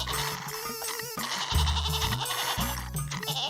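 A goat bleats while being milked, its back legs tied, a few repeated wavering cries close by over background music.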